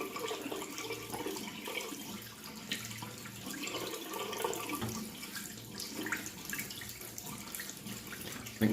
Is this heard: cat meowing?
no